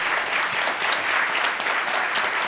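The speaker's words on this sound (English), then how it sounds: "Can we give Aarti a big round of applause?" Applause from a conference audience honoring session moderator Aarti Davis: many hands clapping in a dense, even roar, steady and fairly close throughout with no talking.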